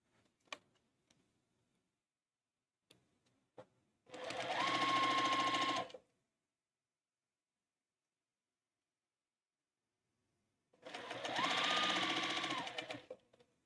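An electric sewing machine stitches cotton fabric pieces together in two loud, steady whirring runs of about two seconds each, separated by quiet handling clicks and a long pause.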